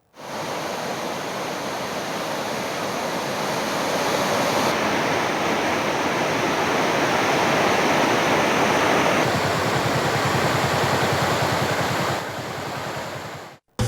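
Floodwater from the Thamirabarani river rushing over a submerged causeway bridge at Kuzhithurai, a loud, continuous roar of broad churning noise that holds steady throughout with no voices.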